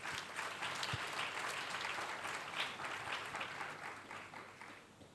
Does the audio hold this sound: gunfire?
no